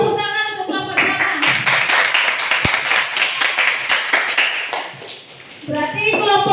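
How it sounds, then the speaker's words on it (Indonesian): A classroom of children claps for the drama group, a burst of quick, uneven hand claps of about four seconds, close and fairly loud, with a teacher's voice before and after. "Tepuk tangan untuk kelompok drama"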